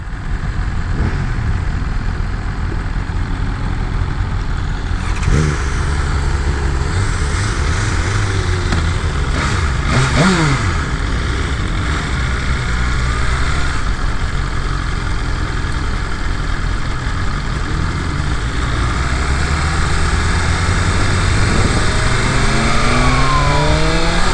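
A BMW motorcycle at a demo day idles, then revs repeatedly with rising and falling engine pitch and a couple of sharp throttle blips, loud and close, with no talking.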